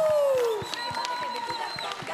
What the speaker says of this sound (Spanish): Señoras y señores, el aplauso para Lady García